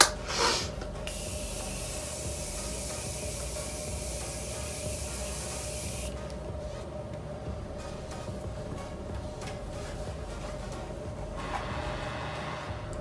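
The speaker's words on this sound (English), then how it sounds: "I'm gonna go in with another little round of setting spray real quick just to lock in the highlighter." Makeup setting spray hisses from a pump bottle in a long spray at the start, then a second burst later on, fine and close over a quiet room hum with no talk.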